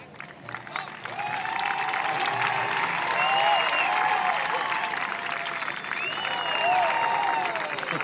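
Rodeo crowd at a PBR bull-riding event roaring and applauding, swelling quickly after a quiet start into a sustained, loud wash of cheers, whistles and clapping that fills the arena.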